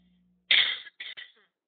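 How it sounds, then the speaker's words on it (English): A single sharp cough bursts out, followed by two smaller rasping coughs, close and loud against near silence. "excuse me, I do have a cough"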